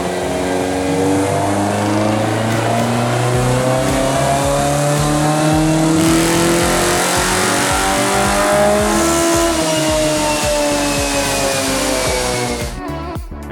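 Honda S2000 with individual throttle bodies on a dyno, engine screaming steadily up to 10,000 RPM, loud and close, rising harmonics through a long continuous pull with no talk.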